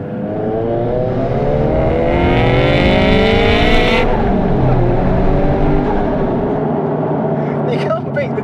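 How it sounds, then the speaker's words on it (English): A turbocharged Toyota GT86 with an HKS turbo kit, around 300 bhp, accelerates hard with a loud rising engine roar, then the revs drop and a fluttering turbo chatter follows. The sound is close and continuous. "You can't beat the turbo noise even, can you?"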